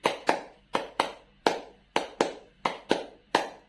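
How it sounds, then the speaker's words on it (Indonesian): Rhythmic hand clapping in a classroom clapping game, tepuk, with sharp, evenly spaced group claps in a steady pattern, some falling in quick pairs, fairly quiet and with no talking. "mari kita lakukan tepuk tangannya ya"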